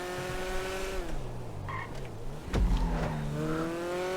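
A Grotti Stinger sports car races in a video game, its engine note rising and falling through gear shifts as it nears a corner, with a sharp thump midway and engine whine continuing after.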